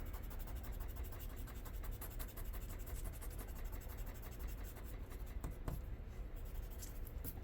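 Pen or pencil scratching marks onto a paper score sheet for a shut the box dice game, a steady close scribbling rub that runs throughout at moderate level.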